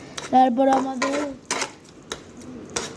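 A Bengali-style tomato chutney with sugar is stirred in a pan, producing a few loud, separate clanks and scrapes of a metal utensil against the pan, with a brief voice early on.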